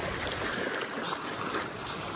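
A cold glacial meltwater river rushes nearby, a loud, dense and continuous broadband roar of flowing water with no voices.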